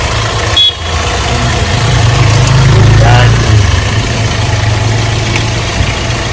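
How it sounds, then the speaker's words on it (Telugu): A 2018 Hyundai Creta starts on a single crank and settles into a steady, loud, low engine idle, with a voice talking over it throughout. "సింగిల్ సెల్ఫ్లో బండి స్టార్ట్ అయిపోయింది"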